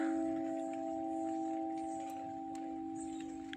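A church bell rings steadily in a French town, its sustained tones sounding moderately distant and fairly quiet outdoors, with faint street ambience and no talking.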